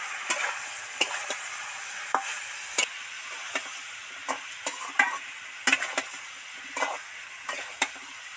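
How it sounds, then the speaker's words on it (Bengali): Jackfruit pieces frying with turmeric and chili powder in a pan, a soft continuous sizzle broken by sharp, irregular scrapes and taps of a spoon stirring against the pan, close and moderately loud. "এবার মিশিয়ে দিয়ে ধরে ধরে 5 মিনিট ভাজতে থাকবো।"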